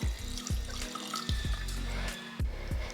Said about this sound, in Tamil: கொஞ்சம் மஞ்சள் தூள், ஒரு 1/4 ஸ்பூன் இஞ்சி பூண்டு பேஸ்ட், உப்பு, கொஞ்சம் தண்ணி சேர்த்துடலாம்